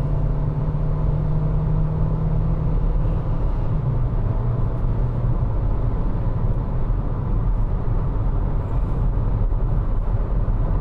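Steady low engine drone from a compact sedan cruising and accelerating in sixth gear toward 120 km/h at about 2500 rpm, heard from inside the cabin as continuous road and motor rumble with a slight pitch shift, no talking.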